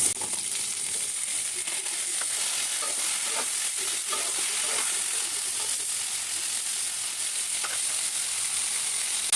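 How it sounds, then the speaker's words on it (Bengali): Potato, eggplant and vegetable stems fry in a pan with turmeric and salt, giving a steady, even sizzle throughout with occasional faint stirring scrapes. "হলুদ লবণ দিয়ে ভেজে নিব"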